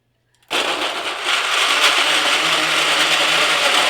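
A blender starts abruptly and runs at a steady, loud, high-pitched whir, pureeing tomatoes continuously without pause.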